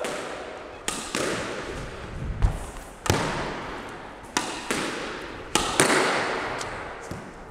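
A squash ball is struck repeatedly in a solo drop-shot drill, giving sharp racket cracks and wall smacks at irregular intervals of about a second, each followed by a ringing court echo.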